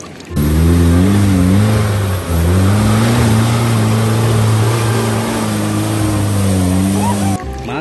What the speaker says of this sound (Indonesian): Mobil off-road.